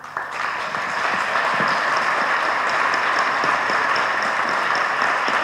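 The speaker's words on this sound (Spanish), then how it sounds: "Un aplauso para ellos." Sustained, dense applause from an audience honoring three priests at a church gathering in Santiago de Compostela, steady and loud throughout with no speech over it.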